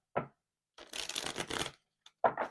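Tarot cards are shuffled in short, quiet riffling bursts close by, separated by brief silences.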